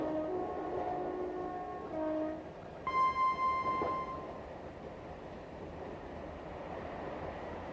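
Train running along the line in a 1990 rail safety setting, with a continuous low rumble and rolling noise. A steady tone sounds briefly partway through and a fainter hum follows, all with no speech.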